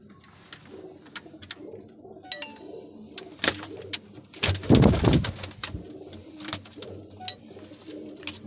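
Rampuri breeder pigeons cooing in soft, repeated calls, with a louder burst of fluttering or rustle midway and some chirps around them, no talk.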